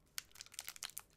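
Short bursts of crinkling and crackling as a crunchy rice puff stick snack wrapper is torn open, quick close rustles over about a second.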